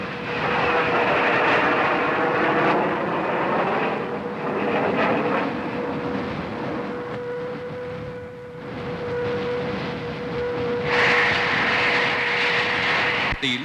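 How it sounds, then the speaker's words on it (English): Avro Vulcan delta-wing jet bombers roar past, a heavy sustained engine drone with a steady whining tone that swells, dips and surges again, loud and alone. "the huge delta-winged Vulcans maneuver with the daintiness and dash of fighters"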